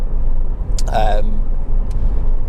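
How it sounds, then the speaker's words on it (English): A Honda Civic Type R's suspension thumps over a road bump without any chattering, amid steady road and 2.0 i-VTEC engine noise, with a person talking briefly over it. "you hear it hitting a bump there, but no chatterings at all"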